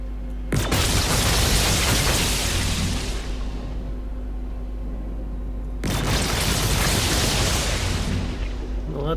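Booming explosions and gunfire from AI enemies in the space game Star Citizen, firing at a ship through the ground: a sudden heavy blast followed by sustained loud rumbling roar, then a second loud burst near the end.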